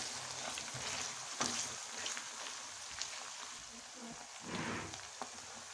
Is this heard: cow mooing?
no